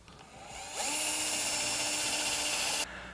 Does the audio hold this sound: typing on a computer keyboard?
no